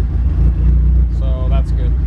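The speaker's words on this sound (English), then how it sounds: "once again, the car runs." A Talon's engine idles loudly and close by after no-start repair work, spraying oil, with a low steady rumble that holds through two seconds while a voice speaks over it.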